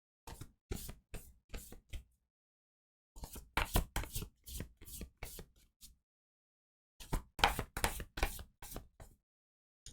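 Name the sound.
shuffling tarot cards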